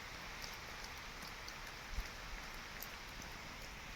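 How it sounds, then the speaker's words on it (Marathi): Rain falls steadily on an open field in an even, hissing wash with a few faint drops standing out, heard alone with no voices. "पडतोय पाऊस त्या रानात"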